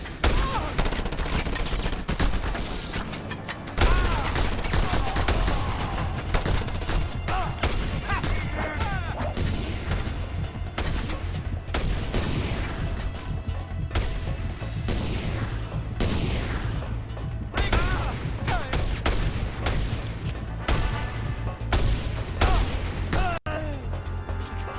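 Pistol and revolver gunfire in a video game firefight: dense, loud bursts of rapid shots and sharp cracks run almost unbroken, with crashes and impacts mixed in among the shooting.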